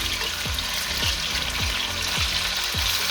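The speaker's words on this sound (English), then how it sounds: "Make sure you leave it to sear nicely on all sides." Beef searing in a hot pan, a steady loud sizzle and crackle with a few soft stirring scrapes at regular intervals, no voices.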